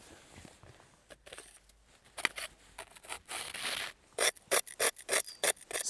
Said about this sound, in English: scrape off some snow